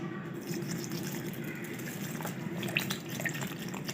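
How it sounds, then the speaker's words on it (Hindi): Water pours steadily into a falsa sharbat mixture of sugar and black salt, a continuous close splashing gush that runs unbroken for several seconds, with no voices. "और साथ में हम पानी ऐड करेंगे।"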